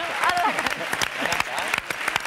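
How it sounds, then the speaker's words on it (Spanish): Applause from a studio audience for a singer at a televised talent-show gala, with sharp scattered claps and voices mixed in over the short stretch. "Y con un fuerte aplauso para ella."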